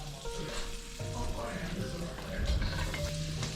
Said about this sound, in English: Sauteed mushrooms.